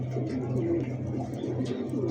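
A racing pigeon, one of several fancy breeds on sale, coos continuously and fairly close, a steady low rolling murmur over a background of other birds.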